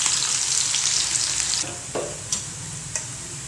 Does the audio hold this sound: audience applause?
no